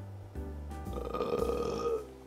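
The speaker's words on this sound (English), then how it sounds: "These burps do not taste good." A man burps loudly and at length, a deep drawn-out belch that rises and falls, heard alone up close after eating a chocolate bhutlah hot pepper.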